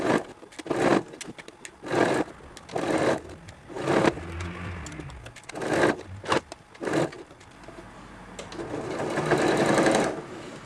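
A sewing machine stitches binding onto an apron made from recycled denim jeans, running in several short bursts with pauses between them and then a longer steady run at the end, close up with no talking.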